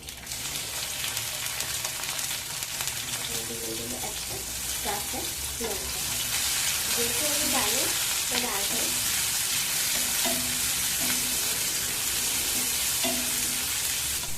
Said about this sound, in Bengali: তেল গরম হয়ে গেলে আমি এর মধ্যে দিয়ে দেবো সাহায্য কেটে রাখা টমেটো একটা